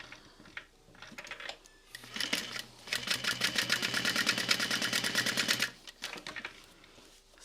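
A sewing machine stitches along the raw edges of a fabric clutch wallet, its steady rapid needle chatter running close and fairly loud for about three seconds between quieter handling noises.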